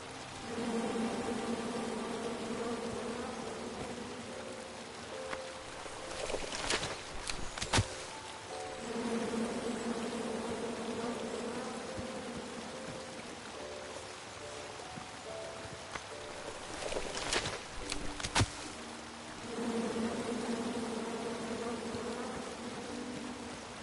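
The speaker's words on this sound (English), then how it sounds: "Come at me, bees!" Bees buzz steadily in a King's Quest game scene, a continuous droning hum that holds through most of the stretch with brief louder gaps, no voices.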